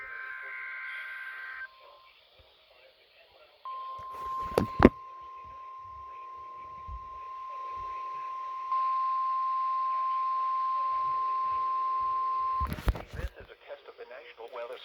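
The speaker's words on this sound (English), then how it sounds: "Service weather radio warning alarm for WWG57 for the Central Highlands of Ohio." A NOAA weather radio warning alarm tone on station WWG57 sounds as a long, steady, piercing single-pitch tone lasting about nine seconds. Harsh data-burst squawks come before and after it, and there is faint radio noise between.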